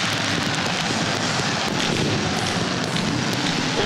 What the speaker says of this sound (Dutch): Zivkovic, die nu wegvalt in het vuurwerk.